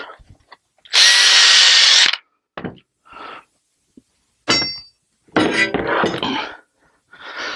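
A power tool buzzes against a Craftsman 100 table saw to strip flash rust, in several short loud bursts of varying length separated by silence, with clinks and thunks between, close by.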